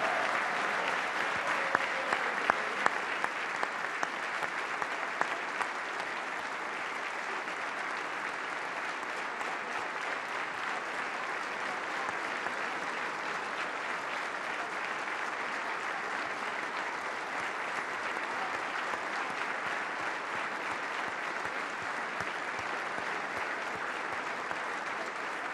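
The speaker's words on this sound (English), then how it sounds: "Let's give her a round of applause for working hard to make a better life for herself" Sustained, even applause fills a legislative chamber during the 2019 North Carolina State of the State address, a broad wash of clapping heard at a distance that carries on steadily for the full stretch.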